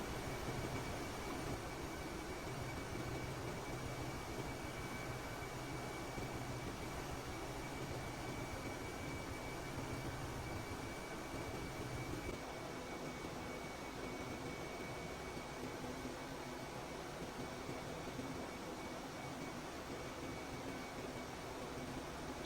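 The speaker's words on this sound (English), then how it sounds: "The engines are running smoothly." Steady, continuous drone of machinery running in a ship's engine room during night rounds at sea, a dense broadband roar with constant tonal hum, unbroken and loud throughout with no speech.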